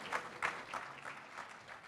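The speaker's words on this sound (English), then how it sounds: "one more round of applause for Emily" Faint, distant applause from a seated audience after a talk on rewilding riparian river corridors, a soft steady patter of many hands fading slightly toward the end.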